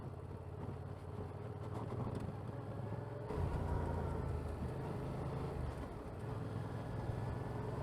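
Motorcycle riding toward a forest in Lithuania: a steady engine drone with road and wind rumble throughout, growing slightly louder partway through as the ride picks up.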